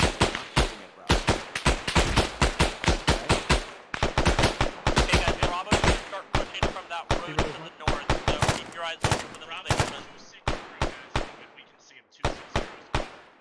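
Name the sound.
gunfire from enemies in the video game Arma 3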